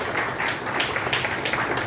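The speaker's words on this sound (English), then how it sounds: "So a big round of applause for Viru." Audience applause at a Rediffusion Red Talks event, a dense steady wash of clapping that holds at an even, fairly loud level from start to finish.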